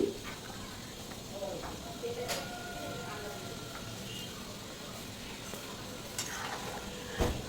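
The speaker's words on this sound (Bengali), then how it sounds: "আরও একবার খুব ভালোভাবে মিশিয়ে নেব" Papaya and red lentil dal is stirred in a pot after garam masala, sugar, green chillies and chopped coriander go in, giving a steady low sizzle and scraping with a few sharper clinks and a scrape near the end.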